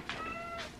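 A cat gives a single short, faint meow, rising and then falling, heard close by in a quiet room.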